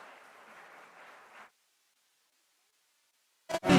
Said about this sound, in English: Give a big round of applause to Saptajwala team.